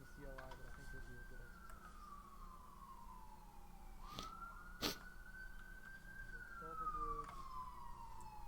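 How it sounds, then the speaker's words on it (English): An emergency vehicle siren wails outdoors, slow rising and falling sweeps heard faint and at a distance, with a brief sharp knock partway through. "The lovely sirens outside."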